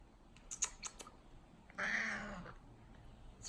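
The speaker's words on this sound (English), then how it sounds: "Here comes the cat." A cat gives one drawn-out meow close to the microphone, after a few soft clicks and taps.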